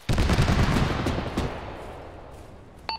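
Heavy gunfire from a vehicle in the military game ArmA, a rapid burst of booming automatic shots at the start that rolls off into a long fading echo, with a short sharp click near the end.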